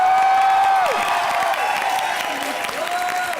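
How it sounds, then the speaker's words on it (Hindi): Studio audience applause for Rahul Roy on a TV comedy show, a dense wash of clapping and cheering from a crowd, loud and continuous, with music tones playing over it. "राहुल रॉय सर के लिए जोरदार तालियां हो जाएं।"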